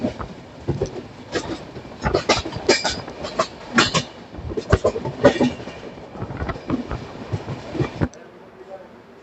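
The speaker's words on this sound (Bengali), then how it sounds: "আমাদের ট্রেন চলছে হাওড়া বর্ধমান মেন লাইন দিয়ে" The Howrah Raxaul Mithila Express runs on the Howrah–Bardhaman main line, its wheels clattering over rail joints in loud irregular bursts inside the coach before the noise suddenly drops near the end.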